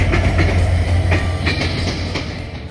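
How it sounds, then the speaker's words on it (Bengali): The Sagardari Express train rolls into a station, with a steady heavy rumble and rhythmic clickety-clack of wheels on rail joints close by, no voices over it. "আমার ট্রেন সাগরদাড়ি এক্সপ্রেস চলে আসে।"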